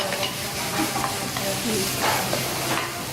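Food stir-fries in a hot pan at a Thai cooking class in Bangkok, pressed down with the back of a spatula: a steady, close sizzling hiss with small scraping and tapping accents throughout.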